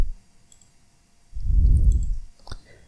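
A single sharp computer mouse click comes near the end, after a soft low thump, in an otherwise quiet room.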